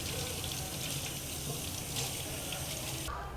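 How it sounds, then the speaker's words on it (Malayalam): A cucumber, halved and seeded, rinsed under a running kitchen tap, giving a steady close hiss of flowing water that lasts throughout and changes briefly near the end. "നല്ലോണം വാഷ് ചെയ്തെടുക്കുക."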